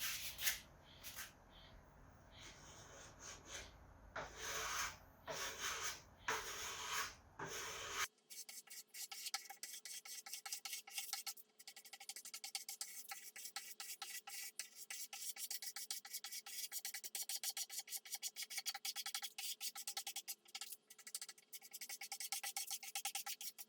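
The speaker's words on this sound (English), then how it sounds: "I'm just going to use a piece of hand sandpaper" A curved wooden table edge is rubbed by hand with sandpaper during a repair and refinish, producing close, rapid rasping strokes, rough and bursty at first, then a continuous fine scratching.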